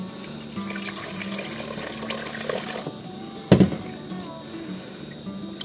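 Hot tap water runs steadily into a container in a home kitchen while ghee is prepared sous-vide, with a brief sharp clunk partway through the pour.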